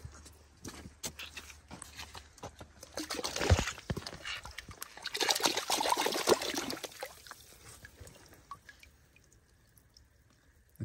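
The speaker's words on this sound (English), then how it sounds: "Should we wash it in the water," An ammonite fossil is rinsed in water outdoors, with irregular splashing, dripping and knocking close by that builds to two busier bursts in the middle, then trails off into quieter trickles.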